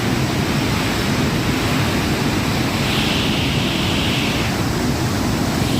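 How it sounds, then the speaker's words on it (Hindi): Fast, powerful river water rushes with a loud, unbroken roar that fills the whole stretch. The sound is steady and close, with no voices. "पानी की आवाज़ तो इतनी ज़्यादा है"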